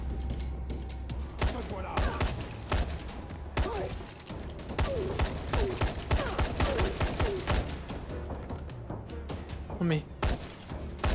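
Military rifle fire in the game Dying Light, rapid repeated shots and bursts crackling throughout a loud, busy fight, with a man briefly exclaiming over the gunfire.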